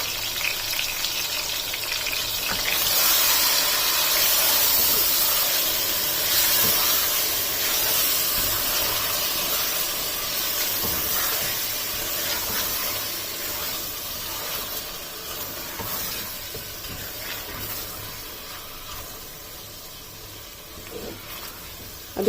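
Overnight-marinated chicken for smoked chicken salan hitting a hot pot, a loud broad steamy hiss and sizzle that holds steady for about twenty seconds, fading slightly toward the end.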